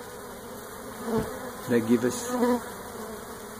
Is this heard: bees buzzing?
yes